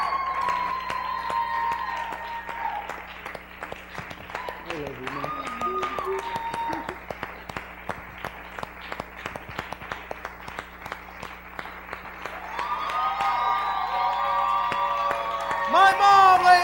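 Audience applause greets a speaker's mother as she walks onto the stage at a motivational talk event. Scattered claps run beneath a voice and sustained tonal background sound, swelling louder near the end.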